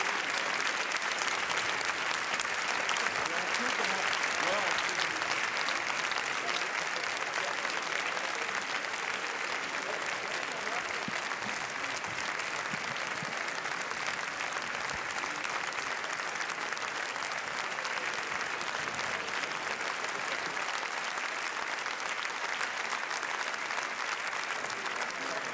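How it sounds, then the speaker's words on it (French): An audience at the Cannes film festival applauds before the En guerre screening, delivering dense, sustained clapping for nearly half a minute, heard at moderate distance and steady throughout. "applaudissements nourris avant la projection d'En guerre de Stéphane Brisé"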